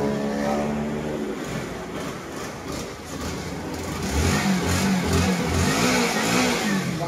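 A Honda NS160 motorcycle engine, stock and five years old, revs after a throttle body cleaning, pulling up from a steady idle into louder, rising throttle blips toward the end, heard up close without talk.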